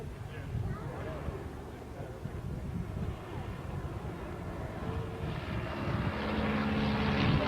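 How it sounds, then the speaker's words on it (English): Miles Messenger propeller aircraft flying past at a 1986 air show in Cranfield, a distant engine drone that swells gradually louder toward the end over crowd and wind noise. "Monty's messenger then, flown by James Buckingham."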